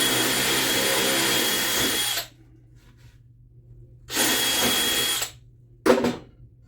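A power drill with a 3/8 inch bit bores through wood while a wood duck house is being built. It makes two sustained, loud whirring runs of about two and one seconds separated by quiet, then a brief final burst.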